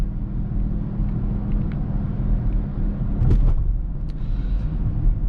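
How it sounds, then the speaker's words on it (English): The engine of a 2021 BMW X6 M50i rumbles continuously as it is driven through aggressive gear shifts, a loud, steady low drone with a brief swell midway. "changing the amount of throttle I'm giving and rumbling through the gears, the aggressive shifting just kind of gives you a jolt"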